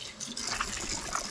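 Tap water runs steadily into a sink while leather motorcycle gloves are washed in lukewarm water with distilled vinegar, giving a continuous close splashing stream with no talk.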